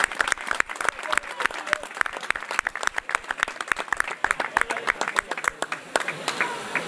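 Dense applause and scattered claps ring out in the streets of Piornal for the Jarramplas during the turnip-throwing festival, a crowd clapping close by in quick irregular bursts with voices mixed in.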